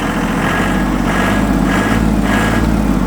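An ISEKI TA317 mini tractor fitted with a soil tiller idles in frosty weather. Its engine chugs with a loud, steady, close-up rumble, and no voices are heard.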